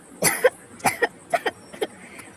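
Several short, harsh coughs come in quick bursts, each with a double hack, fading slightly toward the end; close and alone.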